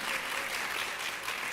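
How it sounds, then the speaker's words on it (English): Steady applause from an audience clapping continuously at a talk about a film sequel, dense and even throughout with no voices over it. "That deserves a clap."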